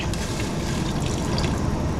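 Water is poured into a pot over browned biryani masala, about 1.25 litres for a kilo of rice: a steady, close pouring and splashing rush that runs unbroken for two seconds, with no talking.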